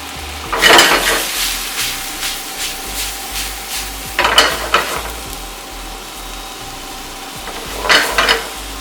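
Diced onion, sweet pepper and roasted corn sizzle in a pan under a steady fry, while a utensil stirs and scrapes in three short bursts against the pan.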